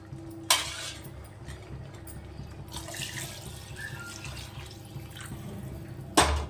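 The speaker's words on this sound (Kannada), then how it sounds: "ಇವಾಗ ನೀರು ಹಾಕ್ತಾ ಇದ್ದೀನಿ." Water poured from a tap or vessel into a pot for palak pulao, a soft continuous stream framed by two sharp metallic clanks of cookware, close and fairly quiet with no talking.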